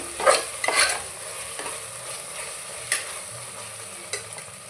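Chicken biryani masala is stir-fried in a pan, a soft continuous sizzle broken by a few close scrapes and clinks of a spoon against the metal early on; no speech.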